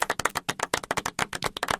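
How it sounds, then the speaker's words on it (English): A small group of people claps together at close range in quick, uneven, overlapping bursts that carry on for a couple of seconds. "Now we're all going to clap"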